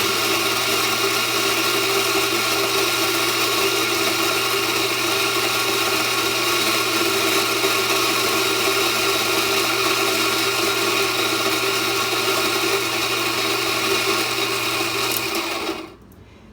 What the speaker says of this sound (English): you take your portafilter out and you bring yourself over to the grinder